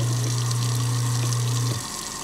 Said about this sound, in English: I'm gonna dump some water in there, and I'm gonna hit it